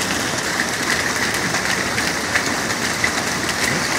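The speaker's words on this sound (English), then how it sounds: "Rain is just being plummeted down on the road." Heavy rain pours steadily onto a road, a dense continuous hiss with occasional louder drop impacts.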